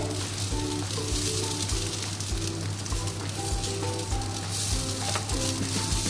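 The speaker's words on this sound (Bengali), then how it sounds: "এই চালটা একটু তেলে একটু ভাজা ভাজা করে নিতে হবে।" Rice fries in oil for yellow pulao with a loud, continuous sizzle, accompanied by a low rhythmic hum and intermittent stirring noises close by.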